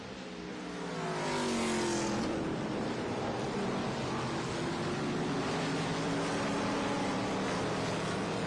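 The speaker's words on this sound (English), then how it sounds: "Cam Menard hang with Brabham as they race down the hill now to the braking zone for turn 1" Trans Am Series race cars roar down the hill toward the turn 1 braking zone at Road America, a loud, continuous engine howl with pitch sweeps as the cars pass close by, with no voices.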